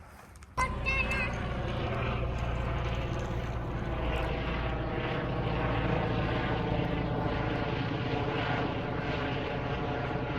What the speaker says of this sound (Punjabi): ਹੈਲੀਕਾਪਟਰ ਹੋ ਸਕਦਾ ਰੈਸਕਿਊ ਦਾ